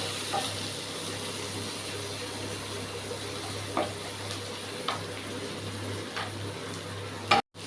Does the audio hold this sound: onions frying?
yes